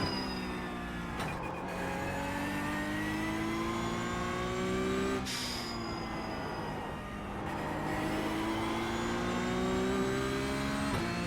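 A Porsche race car in an endurance racing game at the Nürburgring revs hard and steady, engine pitch climbing through gears with brief dips at shifts, loud and continuous with no talk.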